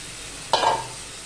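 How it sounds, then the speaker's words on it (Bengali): Lote fish drop into hot masala in a pan over a medium gas flame, setting off one sudden, loud burst of sizzling that fades within a fraction of a second into quiet. "এবার আমি দিয়ে দিচ্ছি লোটে মাছগুলো।"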